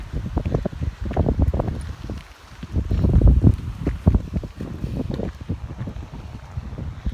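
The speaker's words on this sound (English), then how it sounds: "It's so windy here." Strong gusts of wind buffet the microphone on a windy day outdoors, producing loud, continuous low rumbling that swells and dips throughout, with no voices heard.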